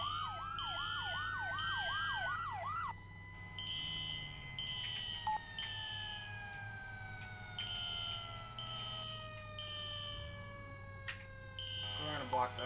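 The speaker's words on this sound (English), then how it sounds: "So, FD's rolling up here. I think that's engine 11." A fire engine siren, likely engine 11, arrives at a police pursuit scene: a loud wailing sweep, then repeated high electronic yelps and tones over an idling engine, with people talking underneath.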